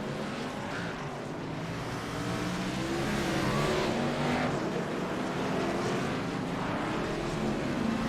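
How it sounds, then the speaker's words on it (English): A pack of race cars and a pace truck roll out together at Southern National in a sim racing league, making a steady, dense engine drone that holds at an even level throughout. "The truck starts to roll."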